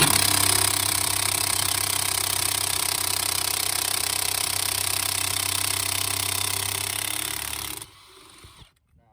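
An impact gun with a socket works loose a tight 32mm nut on a Peugeot 206 brake job, a loud continuous rattling hammer that runs steadily for about eight seconds, then cuts off abruptly.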